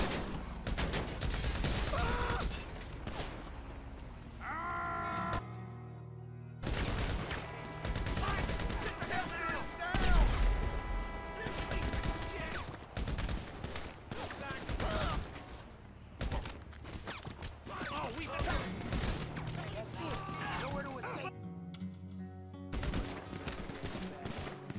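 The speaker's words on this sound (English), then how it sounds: "they just start shooting on me" Attackers in the FiveM game open fire: dense bursts of rapid gunfire and automatic weapon shots crackle loudly and almost continuously, with short pauses and a voice talking over parts of it.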